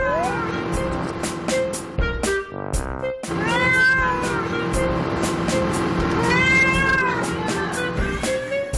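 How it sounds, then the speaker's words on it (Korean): A cat meows repeatedly in long, rising and falling cries, loud and close, over a steady hum of background noise, in a cafe. "오, 이건 다른 고양이 소리."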